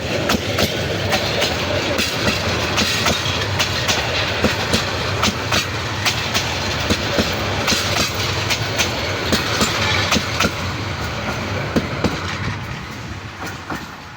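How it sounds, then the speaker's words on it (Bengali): A long passenger train with AC and non-AC coaches rolls away toward Mymensingh in daytime, a loud continuous rumble with steady clickety-clack of wheels over rail joints throughout. "এই ট্রেনটি এখন ময়মনসিংহের উদ্দেশ্যে চলে যাচ্ছে।"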